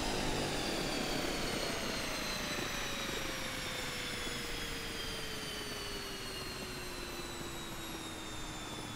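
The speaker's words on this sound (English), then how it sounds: "You could even still hear the prop windmilling as it was slowing itself down." A Kodiak 100 turboprop in Microsoft Flight Simulator 2020 winds down after engine shutdown, its turbine whine steadily falling in pitch as the feathered propeller keeps windmilling under a constant, loud rushing hum.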